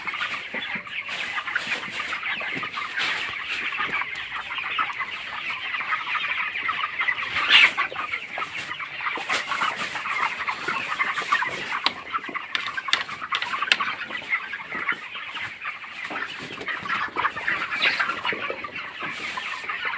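Broiler chickens in a poultry shed cluck and chatter continuously, a dense overlapping flock of soft calls and occasional louder squawks heard close by with no talking.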